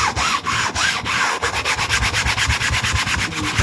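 A lid is scrubbed hard with foam cleaner to lift a stain, giving a loud, close, rhythmic rubbing and scraping in quick repeated back-and-forth strokes with no pauses.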